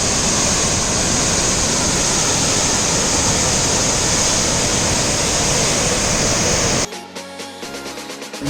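Chunchi Falls roars as a dense, loud, unbroken rush of water, then cuts abruptly to quieter, choppier background sound near the end.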